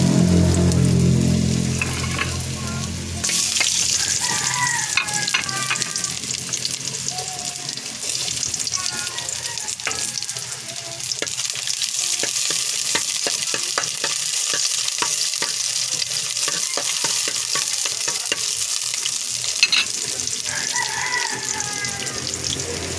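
Ingredients for chicken tinola are added and stirred in a pan, giving a steady sizzle with scraping and clinking, and water running partway through.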